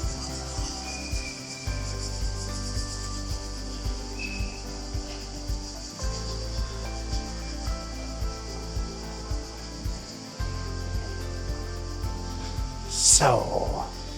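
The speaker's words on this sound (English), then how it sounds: "The crickets are on work today." Crickets chirping near Omis, Croatia on a warm day, a steady pulsing buzz of insect calls repeating throughout, with a brief louder hiss near the end.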